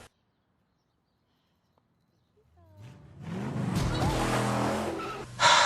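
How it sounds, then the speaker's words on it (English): A car skidding with screeching tires and striking someone in a scene from the parody movie Movie 43, rising from near silence into a loud rushing skid that ends in a sharp impact. "It wouldn't have been an awful parody movie unless you had someone getting hit with a car."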